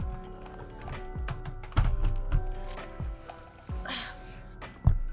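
Someone grabs a computer keyboard and handles it, giving a scattering of close thunks, taps and clacks at irregular intervals over a low steady background hum.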